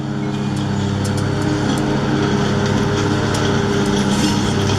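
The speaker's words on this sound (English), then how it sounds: "Hard to hear anything with lawnmower running" A lawnmower runs steadily and close by, a continuous droning engine hum that holds at an even level throughout with no pauses.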